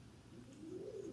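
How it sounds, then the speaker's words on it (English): A group of pigeons coos just outside a door, a soft, low, continuous murmur that sounds faint and slightly muffled, swelling a little toward the end, with no voices. "There's a bunch of pigeons outside my door."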